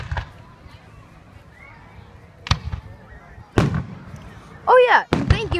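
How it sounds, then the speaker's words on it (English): Fireworks explode in a show: a few sharp, booming bursts spaced seconds apart, one preceded by a rising whistle, loud and fairly near against a quiet background. "That was these awesome fireworks."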